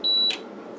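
A single sharp electronic beep from an HP 34401A digital multimeter on a repair bench, clear and close, lasting about a quarter second and followed by quiet room hum.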